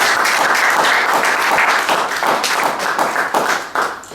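A French-speaking church congregation applauds after a Bible reading, with loud, steady clapping from many hands that lasts about four seconds and has no talk over it.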